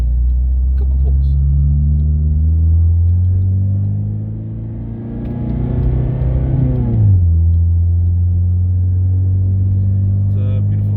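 Inside a Honda Civic with a Mugen-style X-brace, the engine drones loudly, then climbs in pitch through a hard pull before dropping abruptly at the shift and settling back into a low steady rumble.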